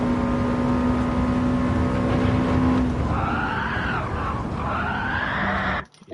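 Subaru Impreza racing in the Gran Turismo 7 video game, a steady engine note held high without an upshift, then tyre squeal and sweeping engine tones as the car corners, ending in a sudden cutoff.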